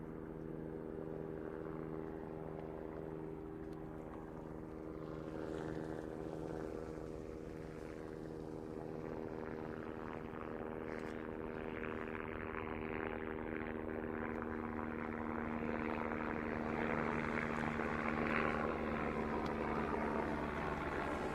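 A helicopter flies near Queenstown Airport in winter, with snow on the surrounding mountains. Its rotor and engine drone grows slowly louder as it passes at a moderate distance, steady and unbroken, with no voices.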